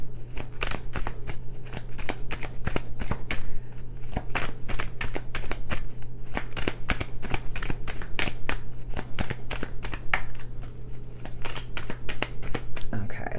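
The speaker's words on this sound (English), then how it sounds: "One more shuffle." Tarot cards are shuffled close up in a quick, continuous riffle of dense papery flicks and slaps, steady throughout over a constant low hum, with no talking.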